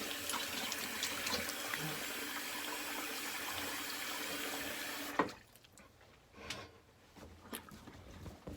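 A tap runs steadily into a sink as shaving lather is rinsed away, a continuous close rush of water that cuts off abruptly, leaving faint dripping and small handling noises.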